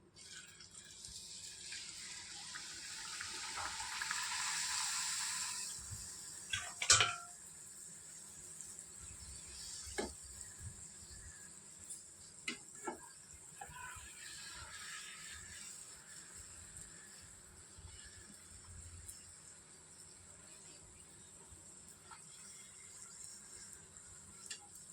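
Luchi fry in hot oil in a wok, giving a soft, steady sizzle that is loudest at first and then settles into a quieter hiss, broken by a few faint clinks.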